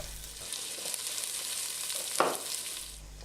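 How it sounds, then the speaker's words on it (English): Steady, gentle sizzling of oil in a pan over medium heat for Irish stew, with soft crackles and a brief louder pop, no voices. "You can hear that sizzling away."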